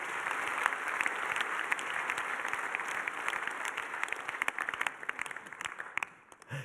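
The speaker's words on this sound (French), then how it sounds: "mesdames et messieurs, vous pouvez applaudir Arnold Fouquet, qui était notre invité." A seated audience at a startup pitch event applauds a departing guest with sustained, fairly close clapping that thins into scattered claps and fades out near the end.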